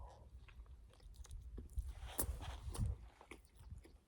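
Close, quiet chewing of a tuna burrito filled with crunchy worms and Thai chili tuna, eaten outdoors on the Pacific Crest Trail; soft crunching bites come in a short, uneven series.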